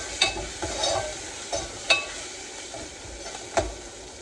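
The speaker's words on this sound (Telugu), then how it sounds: "వేసేసి ఆ పసుపు కూడా రా ఫ్లేవర్ పోయేంత వరకు చక్కగా ఫ్రై చేసుకోండి" Onions with a little turmeric fry in a pan, giving a steady soft sizzle broken by several sharp scrapes and knocks of stirring at irregular moments.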